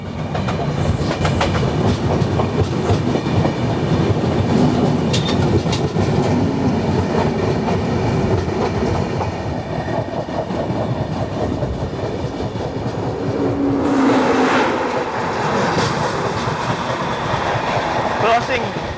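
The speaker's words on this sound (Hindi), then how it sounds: "Crossing Samta superfast express." Heard from aboard the Sachkhand Superfast Express, the Samta Superfast Express crosses on an Indian railway line, with a loud continuous train roar, clattering wheels and a rushing swell as it passes close by.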